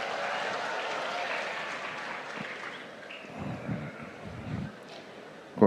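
An audience claps at a presidential speech at a Sekolah Rakyat school in Banjarbaru, a dense patter of applause that fades to a thinner scatter of claps and ends with a sharp bump.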